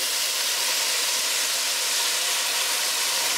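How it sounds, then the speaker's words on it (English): A steady, bright hiss of Barolo wine sizzling in a hot pan with toasted rice, continuous and close throughout with no voices. "You can hear the sizzle."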